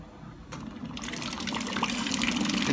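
A peristaltic pump filling machine runs on automatic and dispenses liquid, a steady close-by pour and splash of fluid that builds slightly over a few seconds, with no talking.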